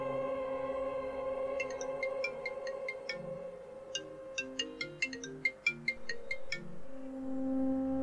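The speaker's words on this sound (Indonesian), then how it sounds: "Tiba-tiba masuk panggilan telepon dari Dara." An incoming call sets a phone ringing with a repeating electronic ringtone, a steady melodic pattern of bright tones sounding alone and fairly loud throughout, with no talk over it.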